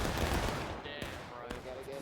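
Musket volleys in the Civil War game War of Brothers, a dense crackle of overlapping rifle shots with sharp reports near 1 and 1.5 seconds, continuous battlefield din behind them and faint voices in the background.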